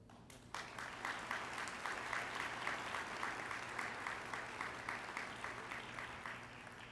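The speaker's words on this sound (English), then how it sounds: "You may now applaud." A commencement ceremony crowd applauds steadily, a dense patter of many hands clapping that starts abruptly and keeps going evenly throughout.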